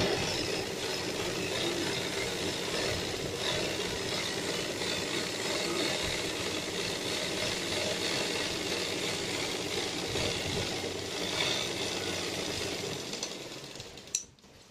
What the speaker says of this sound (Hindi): अब हम बिल्कुल एक किनारे पे सिलाई लगा लेंगे।